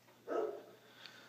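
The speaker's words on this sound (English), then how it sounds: "You can hear the dogs barking" A dog barks once at a distance during a Mircom fire alarm system test, a short muffled bark standing alone against low background hiss.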